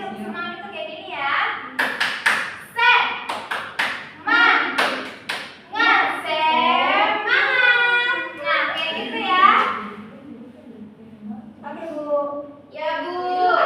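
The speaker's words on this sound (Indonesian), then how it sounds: "Jadi tepuk semangat itu kayak gini ya." Children in an Indonesian fourth-grade class perform a rhythmic clapping cheer routine, bursts of sharp claps and taps mixed with excited kids' voices and chanting throughout.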